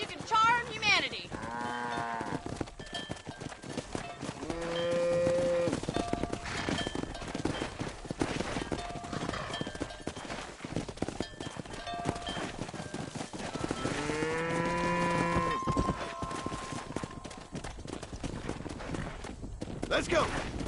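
Cattle low and moo loudly in Red Dead Redemption during a cattle drive down a road, with horse hooves clip-clopping throughout and people talking in between.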